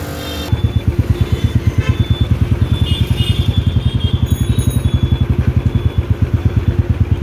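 A Royal Enfield Bullet motorcycle thumps steadily at close range, its loud single-cylinder beat pulsing evenly throughout with no talk over it.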